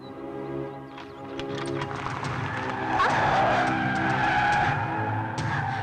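A car swings through a sharp turn, tires squealing and skidding in a long, loud screech over engine noise for several seconds, up close.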